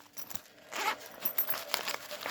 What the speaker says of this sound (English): Right here, it's got a zipper.